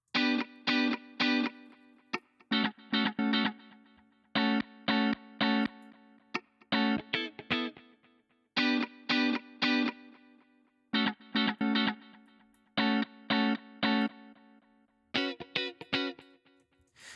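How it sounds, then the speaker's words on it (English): Layered electric guitar parts play a choppy, repeating rhythmic pattern of short stabbed chords with gaps between phrases, colored by delay and reverb, clean and fairly quiet with no voices. "These are all different type of guitar parts."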